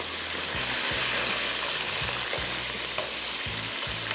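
Green chillies frying in hot oil for gosht aur mirchon ka salan, a loud, dense, continuous sizzle close up, with sharp crackles and pops scattered through it and no talking.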